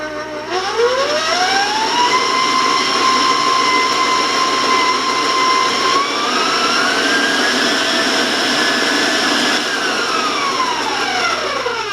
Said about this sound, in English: I'm going to warn you about the sound because the mixer can sound quite loud on your end.